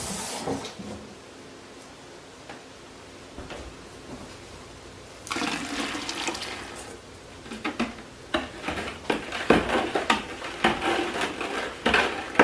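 Homemade laundry soap mixture being stirred with liquid detergent, a quiet start that gives way to sloshing and irregular knocks and scrapes against the container, growing busier toward the end.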